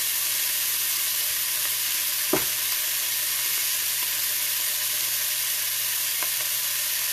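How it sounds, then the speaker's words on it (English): Vegetables sauté in a pan for an oxtail stew in a tomato base, giving a steady, loud sizzle with one brief clatter partway through and no speech. "We're gonna saute our veggies in just a second."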